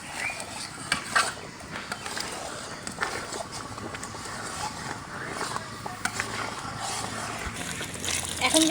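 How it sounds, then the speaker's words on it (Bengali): Hot water is poured into a pot of cooking atar dal with meat, a splashing, gurgling flow under kitchen clatter and stirring, with someone talking over it. "এই যে গরম পানিগুলো দিয়ে দিলাম"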